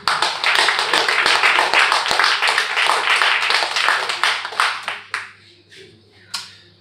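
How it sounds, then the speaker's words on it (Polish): Listeners at a women's basketball club presentation clap briskly together, a dense burst that thins after about five seconds into a few scattered, separate claps and a last lone clap. "i brawa dla nas"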